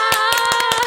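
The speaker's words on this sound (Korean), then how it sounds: "박수 쳐야죠." Quick, sharp hand claps ring out in a brief rapid burst of about half a dozen close claps over a sustained background tone, with no voices heard.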